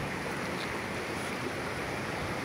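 Sea waves break on a shore after a storm, a steady, broad wash of surf mixed with wind noise on the microphone and no voices.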